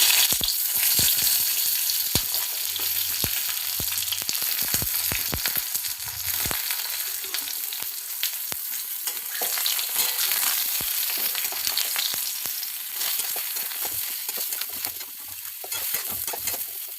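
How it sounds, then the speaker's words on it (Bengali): Eggplant pieces frying in hot oil for a traditional Bengali shukto, a close, steady crackling sizzle with sharp pops and occasional stirring clatter throughout, no voices. "তেল গরম হয়ে গেছে, এবার বেগুনগুলো দিয়ে দেব।"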